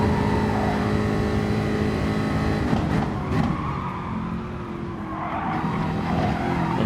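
A race car in Gran Turismo Sport pushes hard on the Dragon Trail Seaside circuit, its engine a loud, steady high-revving drone with occasional tire squeal and shifting pitch throughout.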